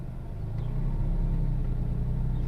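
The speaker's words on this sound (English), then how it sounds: "I'll put it in reverse, try reversing the car and show you it's reversing without jolting the car" A Smart Roadster idles and reverses slowly, a steady low engine rumble close by that swells slightly as it moves, with no jolts.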